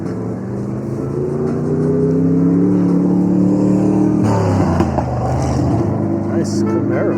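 A Chevrolet Camaro drives past on a street during a bicycle ride, its engine rumbling steadily and swelling as it goes by, with a shift in pitch midway and a voice speaking briefly over it.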